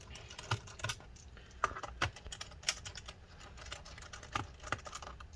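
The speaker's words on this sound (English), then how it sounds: "let's continue taking all these screws out" Small screws are worked out of the underside of an Acer Aspire VX 15 laptop during disassembly, heard as close, irregular clicks and taps from a screwdriver and scattered light knocks on the chassis.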